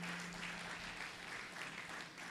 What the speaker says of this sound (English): can we give him a round of applause as he steps forward?